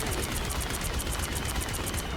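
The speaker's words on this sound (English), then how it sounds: "is a large blast of fireworks that shoots at enemies" Jubilee's primary fire in a hero shooter video game launches a large blast of fireworks, heard as a dense, continuous burst of crackling pops and rapid bangs with steady loudness throughout.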